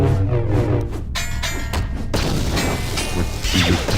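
A frag grenade exploding in Star Wars: Knights of the Old Republic, a loud booming blast with crashing debris and rumble, followed by further combat thuds and impacts.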